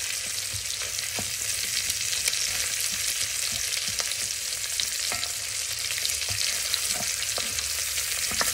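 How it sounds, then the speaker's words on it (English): Italian sausage frying in a soup pot for Zuppa Toscana, stirred and mashed into smaller pieces: a steady close sizzle with scattered scrapes and taps from the utensil, and no talking. "continue stirring and cooking and mashing up that sausage into smaller pieces"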